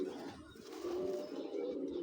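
A military-pattern pigeon, a hot-tempered bird, coos close by in a low, steady, continuous drone that swells slightly partway through.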